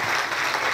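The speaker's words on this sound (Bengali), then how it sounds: "আমাদের বিদায় সকল টিচারদের জন্য জোরে একটা করতালি" Steady, dense applause from a crowd honouring teachers at a computer institute farewell ceremony, filling the whole moment at even loudness with no voices on top.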